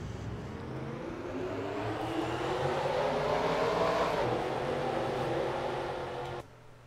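Race car engines in a NASCAR racing video game at Daytona during the Gatorade Duels: a dense, steady roar of many engines that climbs in pitch and then cuts off abruptly near the end.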